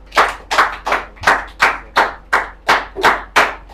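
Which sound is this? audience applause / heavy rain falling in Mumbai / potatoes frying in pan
audience applause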